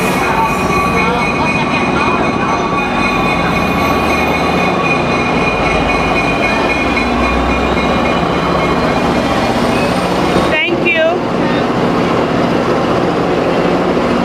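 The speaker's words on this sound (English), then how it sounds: "The train is coming." A Tri-Rail commuter train pulls into a station with a loud, steady rumble of wheels and engine, rail squeal and clatter throughout, and a sharp burst of noise near the end.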